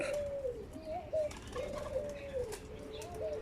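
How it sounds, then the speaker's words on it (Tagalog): Pigeons coo in low, repeated rolling calls against a soft background hum, with a brief flutter of wings partway through. "Parang mga kalapati lang oh. Pero ang dami nila oh."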